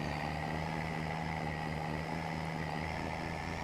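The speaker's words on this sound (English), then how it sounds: "That truck is really struggling going up this hill." A heavy truck engine drones steadily at low pitch, laboring continuously without pause; no voices present.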